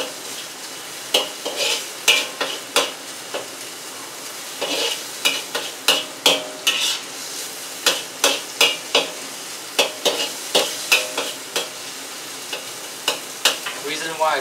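Soy sauce mixture and pork stirred in a hot pan over high heat, with steady sizzling broken by frequent sharp clacks of a utensil scraping and knocking the pan, close and fairly loud, no talking.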